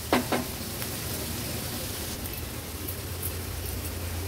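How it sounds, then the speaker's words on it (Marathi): Onion frying in oil over a medium gas flame, a steady close hiss of sizzling with a couple of brief clicks at the start, continuous and without talk. "आता कांदा आपल्याला खूप जास्त मऊ होईपर्यंत शिजवायचा नाही, थोडा मीडियम असेपर्यंत शिजवून घ्यायचा आहे"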